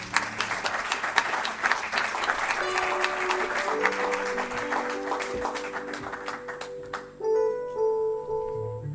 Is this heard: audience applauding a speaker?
yes